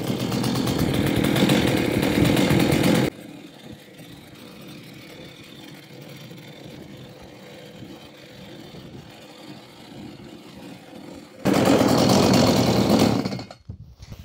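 A Stihl MS 180 chainsaw roars loudly at the start and end, with a long stretch of low, steady idling putter in between, close by.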